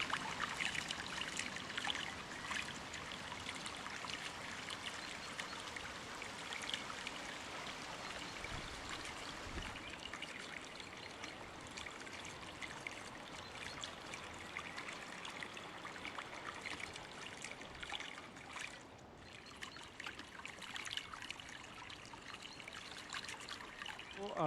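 A mountain water source trickling along the Kinnaur Kailash pilgrimage trek, a soft, steady stream of running water that continues quietly without pause and without speech.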